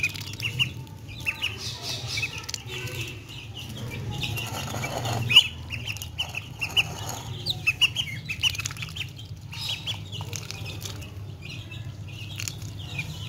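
Young chicks peep and cheep continuously, with occasional duck-like calls and light rustling close by, over a steady low background rumble.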